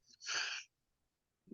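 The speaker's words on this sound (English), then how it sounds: "Somebody having a sneeze attack." A single sharp sneeze during an online call, loud and brief, followed by silence and a faint short sound at the end.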